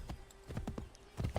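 Horse hooves clip-clopping on a road in a video game, a quick steady run of close, distinct hoofbeats with a short pause and a louder burst at the end.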